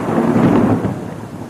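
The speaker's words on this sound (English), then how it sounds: "Thunder." A deep roll of thunder in a storm, a loud low rumble that swells and then slowly fades away, with no voices over it.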